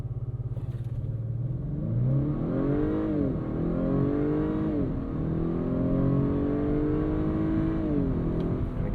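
A 2025 Acura RDX A-Spec SUV with a turbocharged K20 engine accelerates onto a highway, its engine note climbing through several gears in rising sweeps with brief dips at each shift, heard from inside the cabin.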